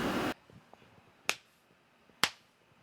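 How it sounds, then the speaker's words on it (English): Two sharp, isolated hand claps ring out in a quiet room about a second apart, following a brief burst of broadband noise, marking the start of a podcast recording. "Go ahead and do the clap"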